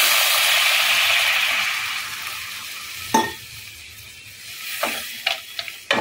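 Water poured into a pan of frying vegetables and bori sets off a loud sizzling hiss that fades away, followed by a few sharp stirring scrapes in the quietened pan.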